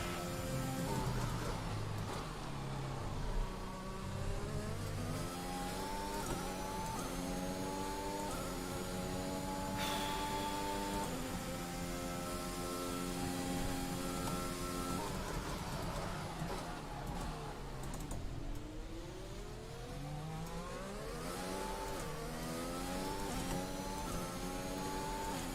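F1 2021 race car lapping a wet track in the game, engine note climbing and falling through gear changes with steady spray and road noise, continuous and loud throughout.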